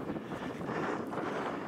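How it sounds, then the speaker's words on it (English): Strong wind buffets the microphone on an exposed mountain hike up High Stile, a steady loud broadband roar that holds for the whole stretch with no voice over it. "Oh, the wind's picked up."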